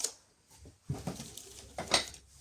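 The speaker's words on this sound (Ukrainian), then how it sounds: "Потроху розпаковуємо нашу, наш посуд." Ceramic and glass dishes clink and knock softly as they are lifted out of a packing sack and unpacked, a few scattered light clatters with quiet gaps, close by and fairly faint.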